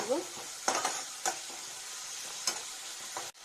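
Jackfruit pieces are stirred with masala in a pan, with a few scraping strokes of a spoon over a low, steady sizzle.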